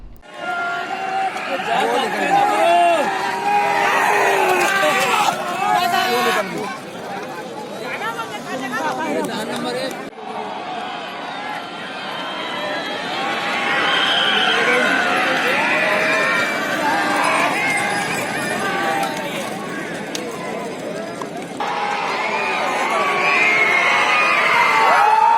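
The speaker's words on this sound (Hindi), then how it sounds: "किसानों ने बैलों की दौड़ देखने के लिए हजारों की भीड़ में उपस्थित" A large outdoor crowd of thousands of farmers at a bullock race, with dense chatter, shouts and cheering throughout, loud and continuous, surging again in the later part.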